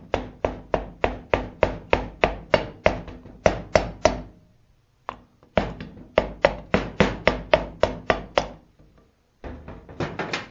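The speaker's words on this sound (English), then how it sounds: "Using the handle of a hammer, just kind of" Sharp, hollow taps struck in quick, steady runs, close and clear, with two brief pauses between bursts of a dozen or so knocks.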